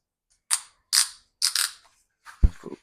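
An adjuster on motorcycle riding pants being tightened, several short ratcheting zips in quick succession close by, followed by a couple of soft clicks and thumps in an otherwise quiet setting.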